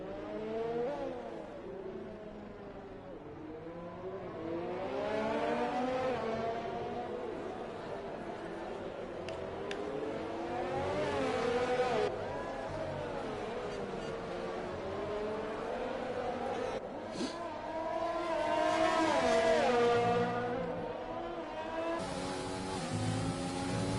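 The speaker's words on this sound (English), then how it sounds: "those 2 cars on your screen probably carrying similar speed down the straights" F1 race cars from the F1 2020 video game at the Mexico circuit, engines screaming and rising in pitch down the straights, with repeated revving sweeps and gear changes throughout, loud and continuous with a faint voice occasionally underneath.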